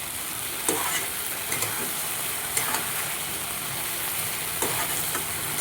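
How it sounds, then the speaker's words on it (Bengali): Okra sautéing in a pan with black mustard seeds, green chillies and spices gives a steady, close sizzle of frying, broken by occasional scraping stirs, with no talking. "মশলার সাথে ভেন্ডিকে ভালোভাবে অল্প সাতলাবো আমি"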